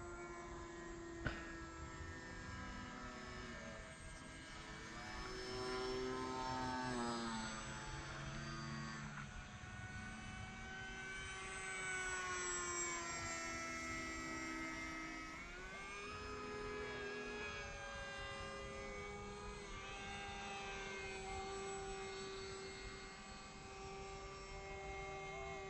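A Flite Test Bloody Baron, a pusher-prop RC model airplane, drones steadily overhead, its motor pitch rising and falling as it passes and banks, fairly distant and with no talk.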